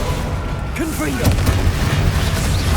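In the Hogwarts Legacy game, a Confringo blasting curse goes off, a booming magical explosion with a low rumble, heard amid ongoing battle noise and a character's voice.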